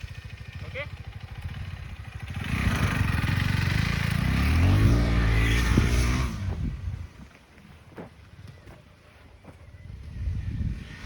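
KTM adventure motorcycle engine droning on a trail, building to a loud, steady rev in the middle and easing off, with heavy wind buffeting throughout.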